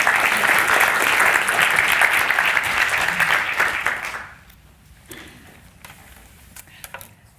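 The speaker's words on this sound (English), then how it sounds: "Continue that applause for our next speaker" An audience claps steadily for the next speaker at an academic event on women writing science. The applause is loud and sustained for about four seconds, then dies away into a quiet room with a few scattered sounds.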